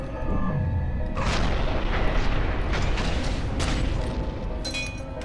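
A rocket launcher explosion in FEAR 2 gives a loud, sustained booming roar with rumbling debris and crackle throughout, heard up close with no voices over it.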